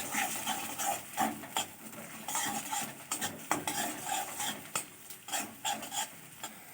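Eggs are stirred and broken up into small pieces in a pan for chow mein, with repeated close spatula scrapes and taps over a light sizzle.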